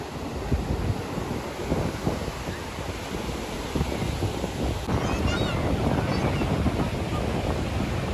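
Steady roar of sea waves breaking on Juhu Beach, Mumbai, in the evening, mixed with gusting wind buffeting the microphone, continuous and loud throughout.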